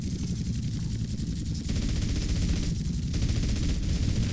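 Continuous heavy gunfire in GTA San Andreas during a target-shooting mission, a dense rapid stream of shots over a loud engine roar, steady and close with brief shifts in intensity.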